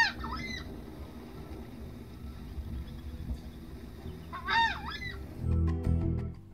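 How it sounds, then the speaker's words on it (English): Southern screamers call near dusk in Brazilian Pantanal wetland at Porto Jofre, two loud honking, goose-like outbursts a few seconds apart over a low rumbling background, with a deeper noisy burst at the end. "The southern screamer is aptly named."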